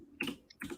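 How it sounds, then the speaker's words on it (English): Keys clicking and clacking on a computer keyboard, a few quick close taps in two short bursts, with no talking. "hear me clicking and clacking on my keyboard."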